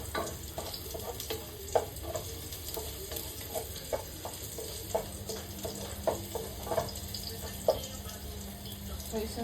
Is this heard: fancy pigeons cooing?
no